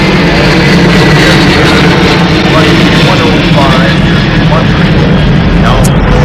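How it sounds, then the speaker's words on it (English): A light airplane on landing approach before touchdown, its engine a loud, steady, close droning roar filling the whole cabin without a break. "Touchdown coming up. Keep easing back on the wheel, Nicole."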